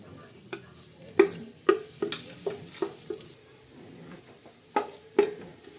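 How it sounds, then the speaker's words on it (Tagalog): Garlic frying in butter in a pan for creamy chicken sopas, with repeated stirring scrapes and sharp clinks of a utensil against the pan over a soft sizzle, fairly close and moderately loud. "Naglagay na po tayo ng butter. Ilagay na po natin ang bawang."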